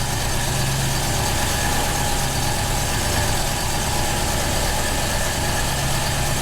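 A classic British Rover P5B car engine idling steadily on its first start of the year, a loud continuous hum with a low throbbing rumble and no voices.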